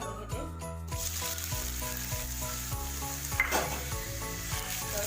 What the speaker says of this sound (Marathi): त्याच्यात मी तेल घालून घेते, 3 चमचे तेल घातले, 4 मोठे कांदे चिरून घेतलेले आहेत, कांदे घालून घेते